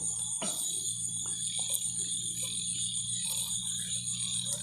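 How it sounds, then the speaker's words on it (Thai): A dense nighttime chorus of frogs croaking in rural Isan, Thailand, continuous and layered with scattered nearer croaks over a bed of insect trill, no voices. "เสียงกบเสียงเขียดร้องนี่ ระงมเลย"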